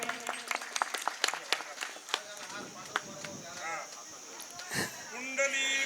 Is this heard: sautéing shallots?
no